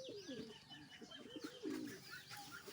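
Domestic pigeons coo softly in low, rolling bursts, with a few higher chirps mixed in, fairly close and without speech.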